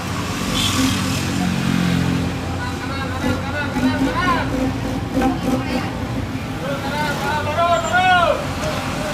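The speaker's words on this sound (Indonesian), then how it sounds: "Mantap, denger suara knalpotnya nih coy." Bus exhaust rumbling close by on an older Shahira Abdi 03 coach, a steady low engine drone with revving swells and chattering voices and crowd noise over it throughout.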